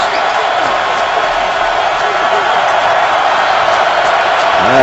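A roaring football stadium crowd at a Steelers vs Ravens NFL game, a dense continuous loud cheer that swells slightly toward the end.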